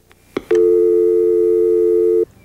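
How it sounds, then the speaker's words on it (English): A brief click, then a steady, loud AT&T telephone dial tone hums continuously for nearly two seconds before cutting off. "When I hear the dial tone"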